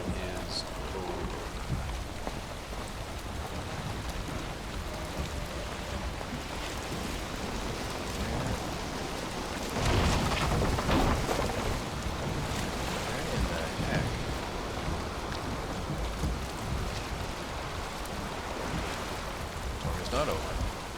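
Steady rain with a storm's rumble in the Valheim video game, a continuous wash of noise throughout with a louder gust around the middle, heard while sailing a boat.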